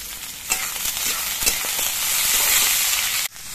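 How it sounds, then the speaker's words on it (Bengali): Sliced onions hiss and crackle in hot mustard oil with nigella seeds, a loud, continuous sizzle with a few stirring knocks before cutting off abruptly near the end. "কালো জিরেটা কয়েক সেকেন্ড ভাজা হয়ে যাওয়ার পর এর মধ্যে আমি কোচানো পেঁয়াজগুলো দিয়ে দিচ্ছি"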